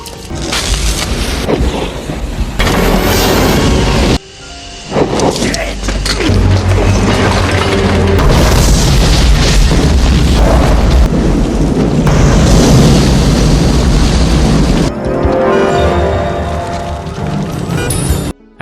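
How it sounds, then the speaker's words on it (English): Loud, sustained movie explosion with booming, crackling debris and rumbling that fills the clip, briefly dipping near five seconds, with dense noisy blasts continuing to the end. "When the explosion happened, Miguel managed to survive by jumping out the window."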